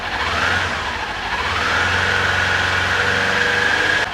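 A 2022 Kawasaki Ninja 400 fitted with an SC Project slip-on exhaust revs toward 3,000 RPM. The close, steady engine note climbs and then holds a sustained higher drone, with no talking.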